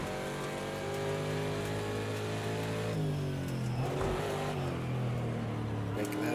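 A Ford Mustang GTD race car in a racing game at the Six Hours of the Glen drones loudly and steadily throughout, its engine pitch dipping and rising again through gear changes, with a voice talking over it.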